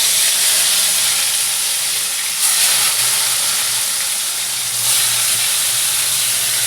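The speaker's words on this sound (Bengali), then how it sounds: "তো আমি এবার মাছটা একখানা একখানা করে ছেড়ে দিচ্ছি।" Turmeric-and-salt-rubbed bhetki fish pieces frying in hot oil produce a loud continuous hiss and sizzle, swelling briefly twice as pieces settle, with a low hum beneath and no talking.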